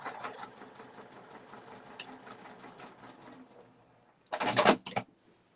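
A sewing machine runs steadily stitching the shoulder seams of a dress, a quiet continuous rapid chatter, followed by a short louder clatter at the end.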